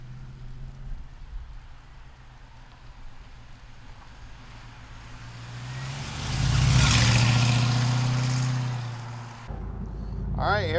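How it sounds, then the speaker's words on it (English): A 1968 Chevrolet Camaro with an LS1 V8 drives past, its engine note building to a loud, close roar midway and then easing off, with a sharp shift in the sound near the end. "here we go for riding a 68 Camaro with the LS1 up front"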